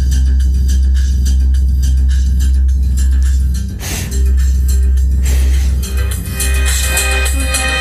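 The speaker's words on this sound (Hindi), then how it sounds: "आप लोग सुन सकते हैं कि यह स्पीकर हमारा बज रहा है अच्छे से" A portable speaker that has been soaked in water plays a song loudly and continuously, with steady bass and dense music filling the whole stretch.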